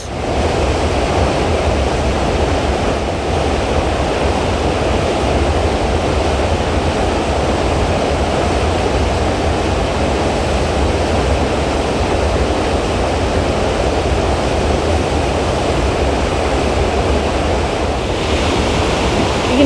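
A waterfall in a North Carolina temperate rainforest roars as a steady, dense rush of water, loud and unbroken for the whole stretch with no voices.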